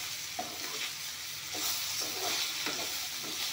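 Eggplant and chillies fry in hot oil for a rohu fish curry, a steady close sizzle broken by several soft scraping stirs of a spatula in the pan.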